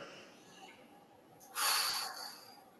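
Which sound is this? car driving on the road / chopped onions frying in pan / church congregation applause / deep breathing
deep breathing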